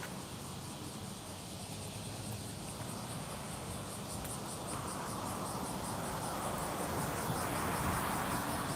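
Loud, steady insect chorus, likely cicadas, in a small pocket of nature within a city; a continuous high buzz with a faint pulsing shimmer runs through the whole stretch, with no talk over it.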